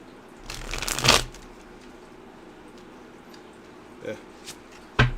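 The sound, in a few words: shuffling a new tarot card deck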